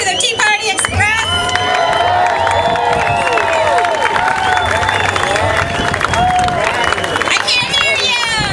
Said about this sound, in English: will you give me a big cheer and show your signs to the Tea Party Express?